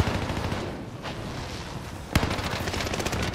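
Gunfire in the video game Call of Duty Warzone, rapid bursts of close automatic shots layered with distant fire and a sharp loud crack near the end.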